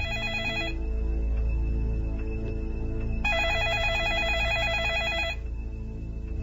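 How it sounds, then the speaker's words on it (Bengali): A mobile phone rings in repeated electronic bursts at fairly close range, with a steady drone of background music running underneath and no voices. "তখনই তার মোবাইলে ফোন এলো"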